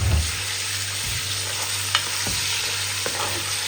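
Meat for adobo sautés in a pan with a steady, bright sizzle, punctuated by a few soft scrapes and taps of a utensil stirring, close and continuous with no talk.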